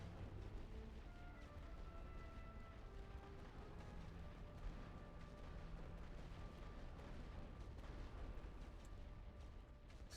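Distant artillery barrage from the World War I strategy game The Great War: Western Front, a continuous low rumble of overlapping booms and thuds rolling steadily throughout with no voices.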